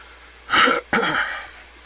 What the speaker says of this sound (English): That was me coughing. Or clearing my throat, not actually coughing.